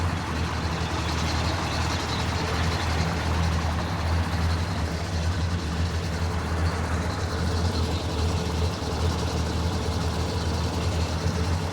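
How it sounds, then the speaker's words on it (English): The 428 Cobra Jet V8 of a 1968 Ford Galaxie XL GT convertible runs steadily at idle, a deep continuous rumble heard close up with no talking over it. "There's your 428 Cobra Jet engine. Engine sounds super good."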